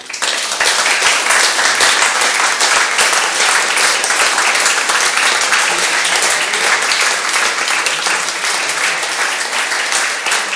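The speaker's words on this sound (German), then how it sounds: "Applaus." A crowd applauds steadily and loudly after a speech at a public event, the dense clapping continuing at even strength throughout without pause.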